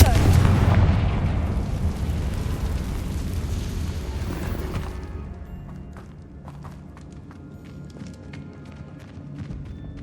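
A Confringo spell explosion in a video game hits as a loud, broad blast that rumbles and fades over several seconds, with lighter crackling debris trailing after it and no talk over it.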